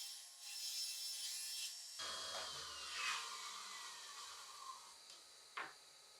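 Plywood parts for a wall shelf and desk unit are trimmed to length with a saw, giving a steady rasping cut that swells and fades, with a few sharp knocks near the end and no talking.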